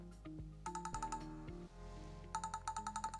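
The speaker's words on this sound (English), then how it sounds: "I set an alarm for 1 minute so you guys can hear what that sounds like" Alarm tone from a Garmin Venu 2 Plus smartwatch, a faint electronic melody of short repeated beeping chirps in two bursts separated by a brief pause.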